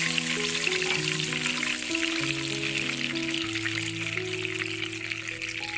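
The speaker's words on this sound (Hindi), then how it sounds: "अब मैं इसके अंदर पानी डालूंगी," Steady, loud hissing and sizzling as water is poured into a hot pan for cumin rice, with low tonal hum underneath and no talking.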